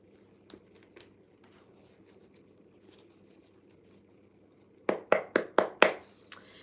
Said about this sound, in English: Shuffling the cards for Libra.